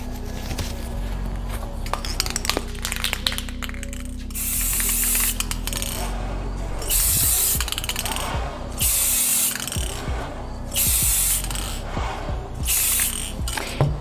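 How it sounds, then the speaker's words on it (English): A spray paint can hisses in several loud, sustained bursts onto glass for a faux mercury glass finish, with rattling, clicking handling noises between sprays. "mask on, let's spray paint."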